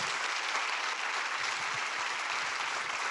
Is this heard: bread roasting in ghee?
no